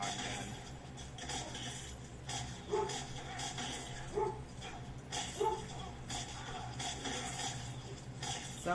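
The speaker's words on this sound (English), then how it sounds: "My dog again." A pet dog barks in short, spaced bursts, several yips at moderate distance over a steady background hum.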